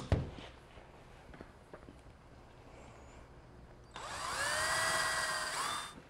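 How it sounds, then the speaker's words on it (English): A power drill bores a screw hole in wood for an Adirondack chair, running in one steady high whine for about two seconds after some quiet shop handling and taps. "Drill a hole right there"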